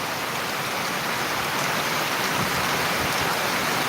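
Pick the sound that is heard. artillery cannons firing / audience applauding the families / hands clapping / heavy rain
heavy rain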